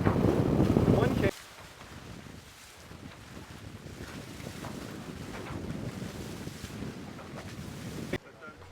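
Wind rushes steadily past an HH Catamarans HH55 sailing catamaran under both sails at about 9.5 knots on open water, with continuous broadband noise and water wash and a loud gusty burst at the start.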